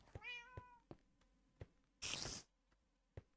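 A cat meows in the Minecraft video game, a short falling cry near the start, followed by sparse clicks and a brief loud burst of noise, all without talk.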